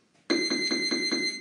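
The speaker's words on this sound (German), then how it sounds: "Und schon klingelt's gleich." A boxing round timer bell rings in a training session, starting abruptly and then pulsing in a rapid, loud, sustained electronic ring with a steady repeating rhythm.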